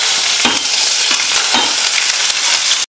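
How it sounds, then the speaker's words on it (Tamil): Onions sauté in a pan with mustard seeds, dried chilies and garlic, a constant close sizzle broken by occasional scraping stirs from a spoon, cutting off abruptly near the end. "வெங்காயம் வந்து வதங்கிருச்சு"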